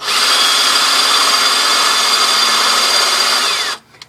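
A cordless drill drilling glass whines continuously at high speed for several seconds, then stops abruptly, leaving near silence.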